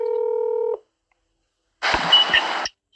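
A steady telephone tone sounds for under a second and cuts off, then after a pause comes a short, noisy burst of phone-line sound.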